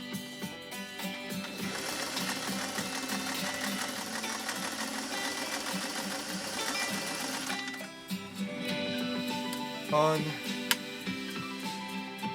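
A 1958 first-edition Singer 404 sewing machine runs, its fast, even mechanical whir steady for about eight seconds before stopping, followed by quieter handling sounds and a voice nearby.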